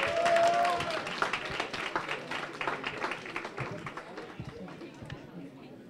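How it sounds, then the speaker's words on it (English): Students clap as a group at an undergraduate research day, a dense patter of many hands that starts strong and thins out toward the end, with voices mixed in. "give yourselves a round of applause"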